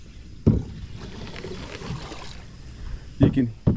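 A canoe pushes through thick grass in a quiet creek, giving soft brushing and swishing scrapes with a few sharper knocks near the start and end.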